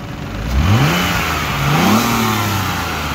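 A 1996 Ford Probe 24V engine revs up twice, the pitch rising and falling in two smooth sweeps, close and fairly loud with a steady rumble underneath.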